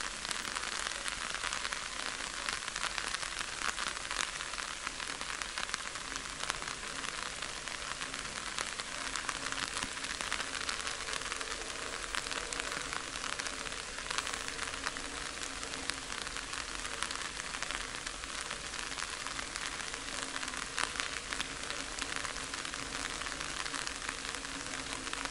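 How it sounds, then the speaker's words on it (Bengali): Heavy rain pours down in the Dooars forest as a dense, steady hiss that holds at an even level throughout, with no voices. "বৃষ্টি, খুবই জোরে বৃষ্টি শুরু হয়েছে।"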